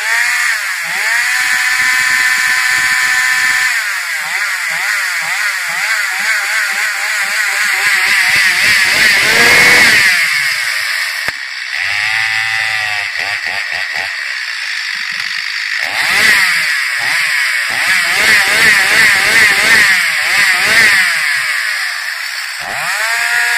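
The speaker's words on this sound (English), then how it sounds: "Show them the chainsaw and let them hear that thing purr." An MS-250 chainsaw engine runs loud and close throughout, its high whine rising and falling as the throttle is revved several times.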